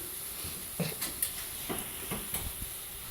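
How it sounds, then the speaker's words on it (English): Steak sizzles in a hot skillet with the stove turned off, giving a steady, close hiss dotted with small irregular pops and crackles. "It's still cooking on the skillet, even though everything is off because the skillet's still hot."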